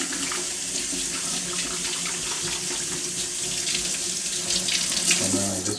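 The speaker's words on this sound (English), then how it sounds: "And then I just recommend leaving the water on lightly." Tap water running lightly into a sink for hand washing with a finger splint on: a steady, close hiss and splash that holds evenly throughout, with a faint low hum near the end.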